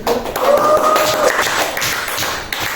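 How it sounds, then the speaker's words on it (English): Students in a senior high school biology class clap for a classroom group, a dense, steady patter of hands that fills the room for a few seconds with no talk over it. "Give applause to group."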